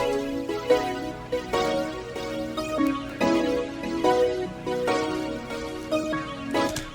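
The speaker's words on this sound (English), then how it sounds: "put the same chords that I had on Steinway D piano into Serum, and it gave me this." Serum synth chords with Gross Beat halftime and Fruity Delay, the progression taken from a Steinway D piano part for a beat, playing as slow, echoing sustained chords with a repeating pattern and no voices.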